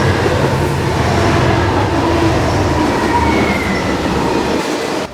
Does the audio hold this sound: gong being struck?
no